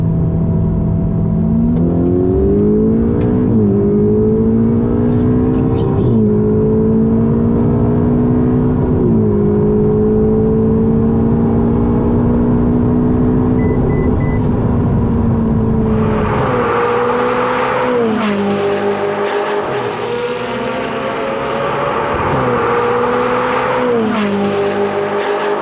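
A McLaren 570S and a Ferrari 488 GTB accelerate hard in a race, a loud, sustained engine roar rising through repeated gear changes, then shifting to a higher, rougher pitch as the cars continue pulling.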